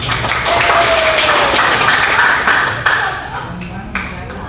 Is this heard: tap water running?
no